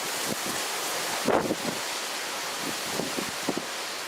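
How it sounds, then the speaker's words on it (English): Strong wind gusting across an open beach during a field cooking outing, a steady broadband rush with a few brief louder buffets, close and continuous, with no talk. "the wind has really picked up"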